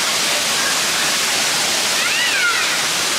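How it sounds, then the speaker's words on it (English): Steady, loud roar of a nearby waterfall on a hiking trail, a continuous hiss of falling water with a faint, brief warbling tone rising over it partway through. "I'm going to head over to the waterfall"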